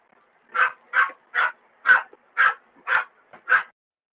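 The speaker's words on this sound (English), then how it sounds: "We'll get a little reprieve from the dog for about 10 minutes, hopefully." A female dog barks seven times in a steady, evenly spaced series, each bark sharp and fairly close, with short quiet gaps between them and no voices.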